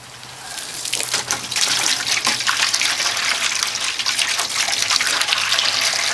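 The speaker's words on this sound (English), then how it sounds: "I'm going to put some water in there and clean it out." Water is poured steadily into an upside down tomato planter to rinse out a small amount of bleach, a loud, continuous splashing gush that builds in the first second and holds steady.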